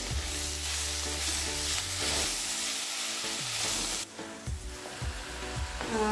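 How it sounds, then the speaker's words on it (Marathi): Spinach sautéing in hot oil in a pan, a loud continuous sizzle with repeated tonal scraping and stirring strokes from a utensil, close up and without talk. "की याच्यात मी पालक टाकून परतून घेते। तेल आपलं गरम झालंय।"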